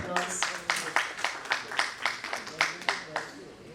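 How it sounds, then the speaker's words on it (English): An audience at a corporate talk claps to welcome a speaker onto the stage, in a quick, steady rhythm of even beats. The claps are moderately loud and fade slightly toward the end. "let us all welcome him with a huge round of applause"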